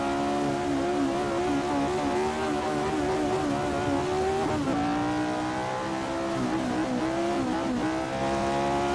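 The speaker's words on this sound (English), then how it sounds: "It's a handful, this car to drive, I can tell you that, but it is a lot of fun." Race car engine in a racing simulator video game played on a DIY motion simulator rig: a steady, loud engine drone holding high revs, with brief pitch dips and recoveries around gear changes.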